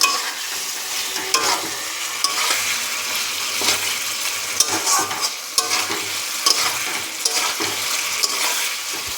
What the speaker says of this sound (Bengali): সামান্য একটু জল দেবো, কারণ না হলে মশলাটা পুড়ে যেতে পারে, সেই জন্য। কষানো হোক।